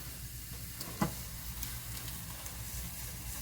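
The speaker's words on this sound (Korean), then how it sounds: "이 프렌치 토스트가 버터에 이렇게 지글지글 익는 소리를 들으면서 기다리는 시간이 되게 힐링이 되더라고요" French toast sizzling in butter in a pan, a faint steady crackle with one soft knock partway through.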